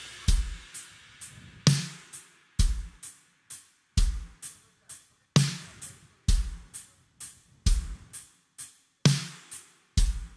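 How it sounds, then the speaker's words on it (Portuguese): Drum kit mixed without triggers on the kick and snare, playing a steady beat of punchy kick and snare hits with cymbal accents, loud and clear with no talking. "Esse é o som da bateria sem os triggers."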